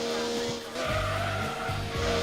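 A car skids and oversteers in Gran Turismo 2, tyres squealing over a droning engine in a continuous close run, with a voice faintly underneath.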